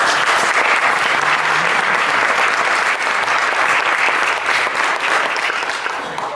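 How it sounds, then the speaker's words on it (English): Conference audience at a keynote address gives sustained, even applause, a dense wash of clapping from many hands that stays strong throughout and tapers only slightly. "I love the round of applause."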